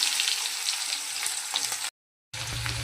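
Chopped onions sizzle in hot oil in a pan with a steady close hiss and faint stirring ticks, cut by a brief silent gap before the frying resumes.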